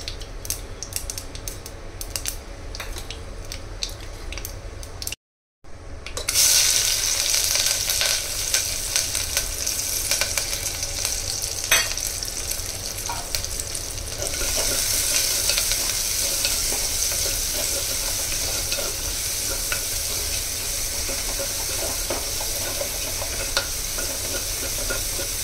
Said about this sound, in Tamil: வானலியில் கொஞ்சம் கடுகு, பொரிஞ்சதும் வெந்தயம் வந்து போட்டுக்கலாம்.